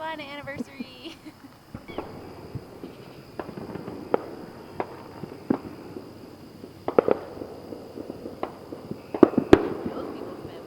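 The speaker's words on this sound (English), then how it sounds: "we went and watched fireworks down by the river." Fireworks bursting over the river at the Whitewater Center in North Carolina: scattered sharp cracks and booms, some in quick clusters, ringing out at a distance over a steady crowd murmur with people chatting.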